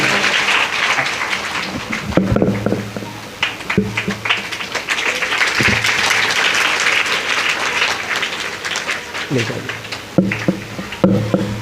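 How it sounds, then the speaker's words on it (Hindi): An audience applauds steadily for several seconds at a Shrimad Devi Bhagwat Katha religious discourse, a dense patter of many hands, with a voice speaking over the clapping at moments. "तो आदरणीय अशोक सिंह जी के लिए पुनः तालियां"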